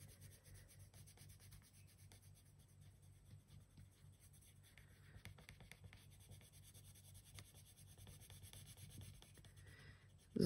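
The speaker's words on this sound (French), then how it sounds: "Vous entendez, il fait un bruit aussi, lui, sur le papier." A pen scratches steadily across paper while someone draws a tiny design, a soft, close, continuous scraping with slight rhythmic strokes, quiet throughout with no talking.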